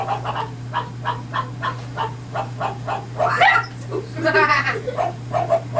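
Rapid, regular dog barks or yips close by in a home in Korea, over a steady low hum, with a few excited people's voices and laughter mixed in near the end.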